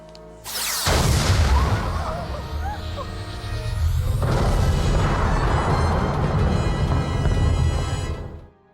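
A Star Trek phaser fired at a lethal setting: a loud, sudden burst that swells into a sustained roaring blast, then a second surge of equal force follows and rumbles on before cutting off.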